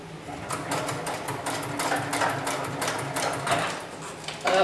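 A heavy-duty industrial sewing machine stitches sling webbing in a steady, fast mechanical rhythm of needle strikes, fairly close and continuous, with a brief louder burst near the end.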